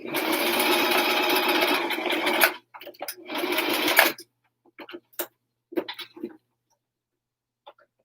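A sewing machine runs a basting stitch along a seam of a Lycra helmet cover, whirring steadily in two close, loud bursts separated by a short pause, followed by faint handling clicks.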